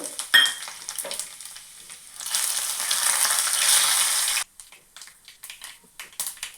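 Lentils, mustard seeds, cumin and dried chillies frying in oil, a loud crackling sizzle that swells mid-clip then cuts off, leaving faint scattered taps and stirring.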